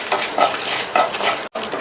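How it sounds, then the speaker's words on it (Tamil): Mustard seeds, coriander seeds and dried chilies roast in oil over a medium flame, a steady sizzle broken by a few rhythmic spoon scrapes and one brief silent gap, close and fairly loud. "மிதமான தீயில வச்சு இது எல்லாத்தையும் வறுத்துக்கலாம்"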